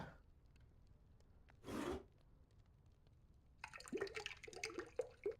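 In the Italian Pizza Simulator video game, water pours into a bowl of pizza dough ingredients, a short rushing splash followed a moment later by a longer gurgling, trickling pour over a low background hum.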